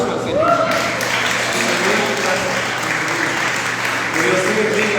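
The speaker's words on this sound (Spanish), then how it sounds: "Un aplauso al Señor." A church congregation applauds, a dense sustained wash of clapping from many hands at moderate distance, with a voice speaking over it.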